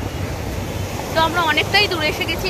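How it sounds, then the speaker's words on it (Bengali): Sea waves wash steadily onto a beach in a broad, continuous roar, with a voice talking over the surf for most of the stretch. "আর এই যে সমুদ্রের আওয়াজটা এখানে পুরোপুরি শুনতে পাচ্ছি"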